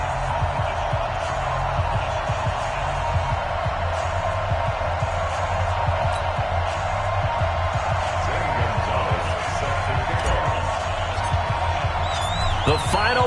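A steady stadium crowd roars and cheers in an EA Sports NFL game before an Arizona Cardinals versus Los Angeles Rams matchup, a continuous broad wash of noise with thuds, under commentary.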